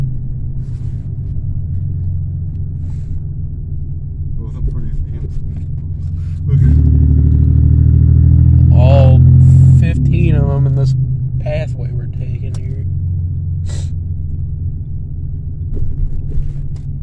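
Driving in a 1992 Buick LeSabre with its 3800 engine: a steady low rumble swells into a loud several-second surge of acceleration, then settles back to cruising drone, with talking throughout.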